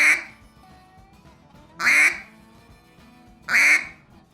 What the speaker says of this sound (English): what I'm gonna do is I'm gonna blow a quack